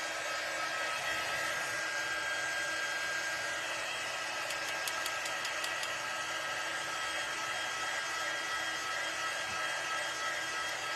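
Hair dryer running steadily at close range, blowing on a handmade fall-decor tiered tray craft piece, a constant whooshing drone with no pauses throughout.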